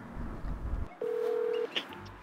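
A few electronic phone dialing tones sound while a call is placed, one long steady beep followed by a short blip, close and clear with no talking over them.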